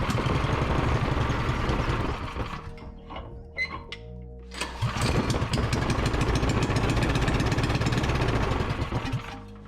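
Predator 212 small single-cylinder engine, a budget stage 2 performance build, sputters through a brief starting attempt, dips for a moment, then catches and runs with a loud, rapid, steady chugging beat.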